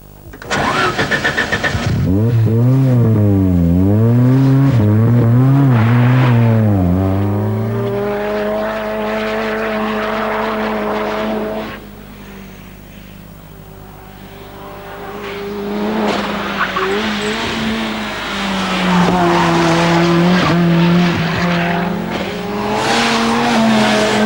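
A 1989 Ford Sierra Group A race car is driven hard, its engine revving up and down through gears with loud, swooping pitch changes and bursts of tire squeal, heard up close.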